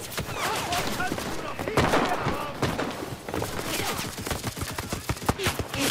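Rapid bursts of gunfire crack through a firefight in the WWII shooter Enlisted, shots scattered and overlapping with near and distant reports amid other battle noise.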